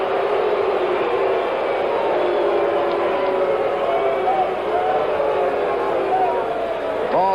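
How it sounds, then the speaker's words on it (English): A dense, steady roar from the football stadium crowd at the 1976 Raiders–Steelers game, loud and continuous throughout, with no clear individual voices. "Now the crowd starts in again."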